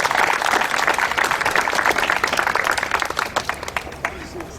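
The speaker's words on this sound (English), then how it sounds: "let's give a big round of applause for Griff" A large outdoor crowd applauds a speaker at a divestment rally, starting as a dense, loud wash of clapping with crowd noise, then thinning into scattered individual claps as it dies away.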